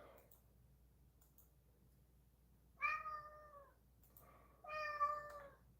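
A cat meows twice, a short call followed by a longer one, close and clear in a quiet room.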